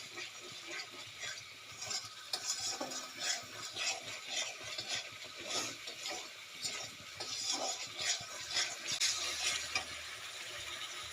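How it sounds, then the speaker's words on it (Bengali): Spice masala for a broccoli, potato and soybean dish is stir-fried in a pan until the oil separates: repeated scraping strokes from a utensil over a soft, ongoing sizzle, close and without talk. "এবারে ভালোভাবে কষাবো যতক্ষণ না মশলা থেকে তেল ছেড়ে যাচ্ছে ততক্ষণ পর্যন্ত ভালোভাবে কষবো।"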